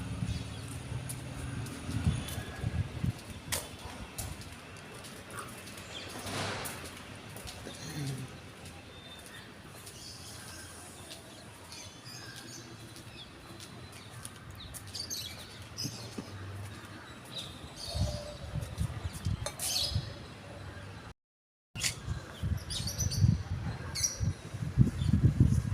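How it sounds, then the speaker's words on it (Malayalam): Pigeons coo from a tiled roof on a cool morning in Kerala, low soft calls repeating at a distance amid faint ambient noise, with a brief dropout and louder nearby rustling toward the end. "ഇതുണ്ടോ കുറേ പ്രാവുകൾ."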